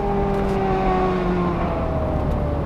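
Smart Roadster Brabus Coupé with a pneumatic gearbox and four-wheel drive accelerating hard, a steady close engine drone with slowly shifting pitch, loud and continuous with no voices.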